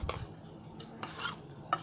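Potato pieces get mixed with sugar and peanuts in a bowl, giving a few quiet scraping strokes and light clinks, separate and faint against a calm room.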